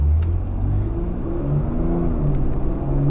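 A 2019 Lexus RX 350 pulls away from a standstill, with steady engine rumble and low harmonics that rise gradually over a few seconds. The sound is loud and continuous, recorded from inside, with no talk.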